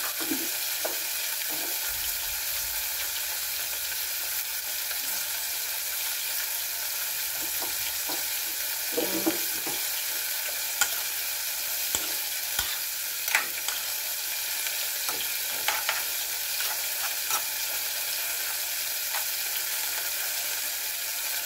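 Tilapia simmers in coconut milk with black pepper in a pan, giving a constant soft sizzle and bubble, with occasional scraping and clinks as the mix is stirred, all fairly quiet with no talking.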